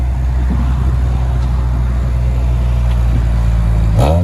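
A 2005 Honda Civic Si EP3 hatchback with an aftermarket eBay cat-back exhaust and the silencer removed, giving a loud, steady droning idle with low harmonic rumble and a short rising rev at the end.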